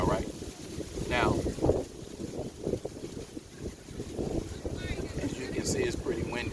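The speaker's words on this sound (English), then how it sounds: "as you can see, it's pretty windy today" Strong outdoor wind buffets the microphone with a constant low rumble and roar on a windy day, while a person talks steadily underneath it.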